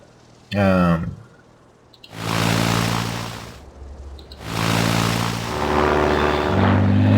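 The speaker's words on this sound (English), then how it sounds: "I want to be on the sides of the reconnaissance aircraft when it passes me" A propeller reconnaissance plane in the video game Ace Patrol 2 flies past, its engine drone swelling loudly, fading, then returning in two sustained passes after a brief sharp sound.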